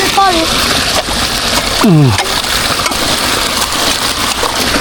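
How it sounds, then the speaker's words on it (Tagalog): Rushing water splashing at a waterfall along a canal system, a loud, steady wash throughout with brief voice sounds over it. "Meron tayong waterfall"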